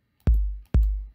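Layered kick drum sample with a long tail, struck twice in succession; each hit has a sharp attack and a deep, booming low body that decays smoothly, heard alone and fairly loud.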